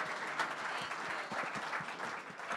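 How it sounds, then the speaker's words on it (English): Brief audience applause at a startup pitch event in Atlanta, as the final presenter is welcomed; scattered and moderately quiet clapping from a modest crowd, continuous and without talking. "one more round of applause for our last but not least presenter tonight."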